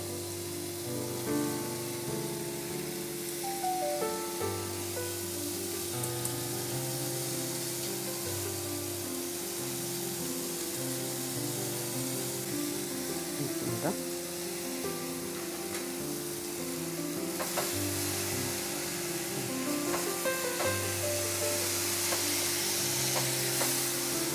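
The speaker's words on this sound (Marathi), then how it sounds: "ही जी आपण चिरून ठेवलेली मेथी होती ती घालूया" Chopped fenugreek leaves go into a pan with cooked potato for methi bhaji and are fried and stirred, making a steady, loud sizzle with stirring scrapes throughout, and soft music running underneath.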